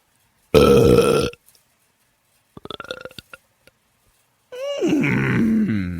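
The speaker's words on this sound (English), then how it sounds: "the Undercountry Music News Wet Belch of the Week" Two loud wet belches, the first a short burst and the second a longer, gurgling, drawn-out one, separated by a few scattered clicks and brief mouth sounds in an otherwise quiet stretch.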